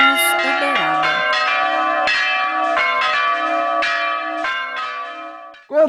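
Bells cast by an artistic bell foundry in Uberaba, Brazil, ring in a series of clear, resonant strikes, about eight evenly spaced tolls with long overlapping sustains, loud and close.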